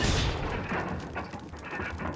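Shotgun blasts from the Resident Evil remastered video game, with a loud burst at the start followed by dense, rumbling gunfire and impact noise throughout.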